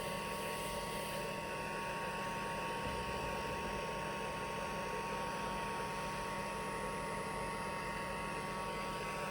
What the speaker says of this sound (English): You don't want to put your heat gun too close to the plate and for too long